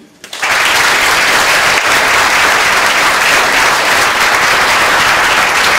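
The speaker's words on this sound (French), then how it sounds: "je voudrais qu'on les applaudisse tous" A large audience bursts into sustained applause, a dense, steady roar of clapping that starts abruptly and holds loud for several seconds.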